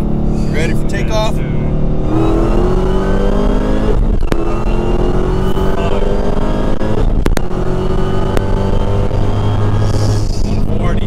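A Hellcat making over 900 wheel horsepower pulls hard in second gear from about 60 mph, its engine roaring loud and steady as it rises in pitch across the run, with occasional voices inside the car.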